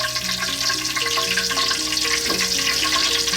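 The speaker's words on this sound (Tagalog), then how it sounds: "Hahanguin natin siya, tapos po i-refry natin siya." Pork belly for lechon kawali fries in hot oil, giving a loud, continuous crackling sizzle with dense bubbling that holds steady from start to finish, with no voices over it.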